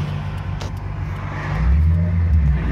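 A Toyota AE86 fitted with a 2JZ VVTI engine and W58 gearbox drives along with a steady low engine drone that swells louder as it accelerates, heard from inside the car.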